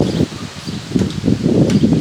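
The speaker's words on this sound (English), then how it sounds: "the wind is kicking up and I don't have a muffle over the microphone here, so hopefully it's not too much wind noise" Strong wind buffets an unshielded outdoor microphone, a continuous low rumbling roar that swells and gusts throughout, loud and close with no other clear sounds.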